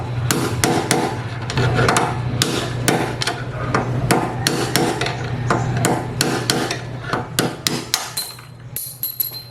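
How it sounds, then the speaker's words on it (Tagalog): Repeated sharp metal hammer-like knocks as a screwdriver drives ball race bearings out of an Easyride 150P scooter's steering head, a dense irregular series of close, loud strikes with a brief ringing scrape at the end. "Kailangan tanggalin ko yung mga bearing niya dito at saka doon sa kabilang side. Para matanggal yan, bubutayin ko na lang nitong screwdriver."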